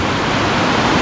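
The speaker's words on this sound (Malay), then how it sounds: "campsite ni tepi sungai, air deras" Rushing river water beside a campsite near Jeram Berungut, a dense, steady broadband roar of fast-flowing current, close and continuous.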